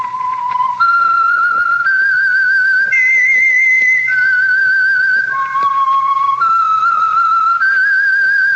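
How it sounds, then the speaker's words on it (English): A clear, close whistled theme melody for The Whistler radio drama sponsored by Signal Oil, sustained pure notes stepping up and down in a slow, eerie tune, loud and alone. "That whistle is your signal for the Signal Oil program, The Whistler."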